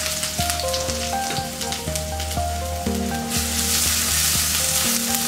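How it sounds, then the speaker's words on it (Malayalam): Ginger and garlic, about six cloves and a large piece of ginger, sizzle and fry steadily in an oiled pan, with a continuous bright crackle and occasional scraping stirs, close and loud without any talking. "ഇതിൻ്റെ പച്ചമണം മാറുന്നത് വരെ വഴറ്റി കൊടുക്കും"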